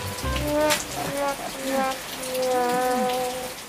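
Steady rain pours down outdoors at a fair, even level for the whole stretch, with people talking over it in Indonesian.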